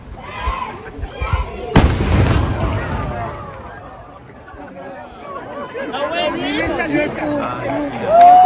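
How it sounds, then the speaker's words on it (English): A single loud cannon boom fires at noon over Zagreb, a sharp broadband blast that rolls into a long echo, surrounded by outdoor crowd chatter and people talking nearby. "Cannon fires every day at noon to let everybody know it's noon"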